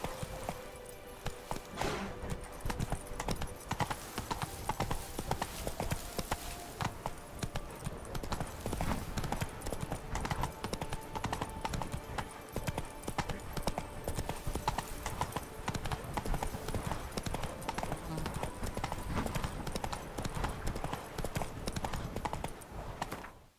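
Geralt's horse Roach from The Witcher 3 gallops in a fast, steady clip-clop of hoofbeats that runs the full stretch, close and fairly loud, with faint game ambience underneath.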